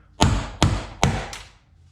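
Four sharp metallic hammer strikes on a center punch during a Fox-body Mustang door handle replacement, spaced roughly evenly, each ringing briefly before decaying, close and loud.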